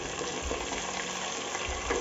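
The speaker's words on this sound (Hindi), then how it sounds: "एक बड़ा चम्मच अदरक लहसुन का पेस्ट डाल देंगे" Ginger-garlic paste frying with onions for a vegetable biryani cooked in a pressure cooker, a continuous close sizzle with soft stirring.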